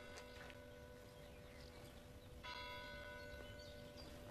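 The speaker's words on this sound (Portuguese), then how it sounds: "Está ouvindo sinos?" Church bells ring steadily with long overlapping tones, a fresh strike around the middle adding brighter ringing; moderately distant, no voices.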